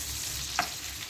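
Onions fry on high heat in a pan for hotel-style chilli chicken, a constant close sizzle with one quick stir scrape partway through.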